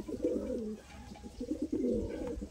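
A Madras flying pigeon coos softly nearby in two low, burbling bursts with a short pause between them, set against quiet background noise.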